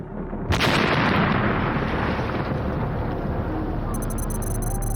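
A massive truck bomb detonates at an American embassy with a sudden loud blast, then a long roaring rumble of debris and destruction that fills the remaining seconds without fading.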